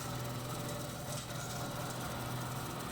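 A tractor pulling a bush hog mower cuts through a very overgrown field being reclaimed for pasture, its engine a loud, steady, unbroken drone with rough mechanical rattle and no voices.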